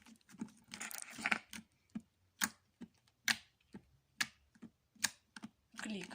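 Magic slime clicks and pops as hands work it, a series of sharp, close, distinct snaps spaced irregularly about every half second against a quiet background.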